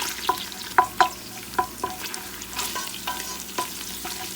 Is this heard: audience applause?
no